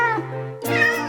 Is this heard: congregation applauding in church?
no